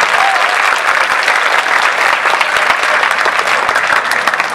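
Loud, dense applause from a large audience at a talk on policing, a steady roar of many hands clapping continuously without pause.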